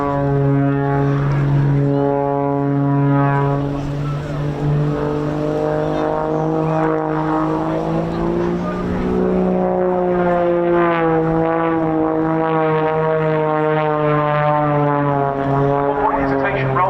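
Extra 300 aerobatic aircraft with a propeller engine flying display manoeuvres: a steady, loud droning engine note whose pitch rises and falls as it pulls vertical and tumbles, continuous throughout with no talk.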